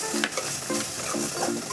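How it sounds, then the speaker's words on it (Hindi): Tomato paste masala is stirred in a pan for Indian-style macaroni, a short run of close, rhythmic spatula scrapes over a soft sizzle, about four strokes. "मिक्स कर लीजिए अच्छे से।"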